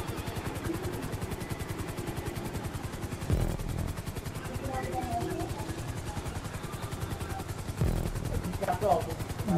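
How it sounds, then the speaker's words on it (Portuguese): A helicopter flies in GTA V while a real helicopter passes outside, giving a steady rhythmic rotor chop with engine drone that runs throughout and swells slightly near the end, with a voice present. "Eu de helicóptero aqui e lá fora passando o helicóptero também."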